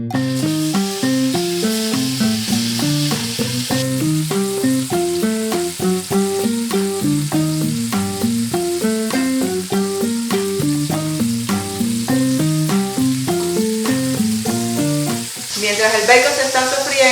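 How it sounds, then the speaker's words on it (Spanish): Bacon pieces sizzle steadily in hot oil in a pot for tamal en cazuela, a continuous frying hiss under loud rhythmic music that plays throughout. "Mientras el bacon se está sofriendo"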